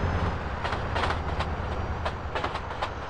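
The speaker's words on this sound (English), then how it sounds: "Look the fuck out, DJ, the train" A train in the video game GTA San Andreas rattles past with a low rumble and rhythmic clacking bursts, steady and fairly close.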